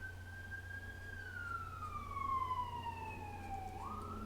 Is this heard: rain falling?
no